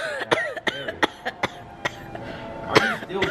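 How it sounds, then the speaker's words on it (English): A person coughs repeatedly in a burst of sharp, close coughs with a little throat clearing, irregular and loud, with no speech around them. "Are you still coughing from yesterday?"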